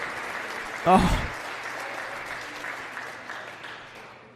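An audience claps for a woman at a Democratic Party gathering, a broad steady wash of applause that swells briefly near the start, with a short exclamation and talk over it.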